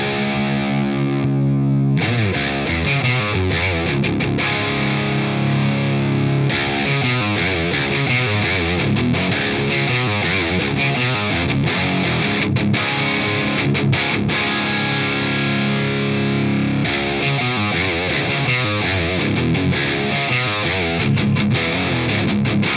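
Electric guitar through a Carvin V3 amp in center mode at high gain gives a loud, thick, distorted tone, with strummed chords and riffs ringing continuously throughout and no talking.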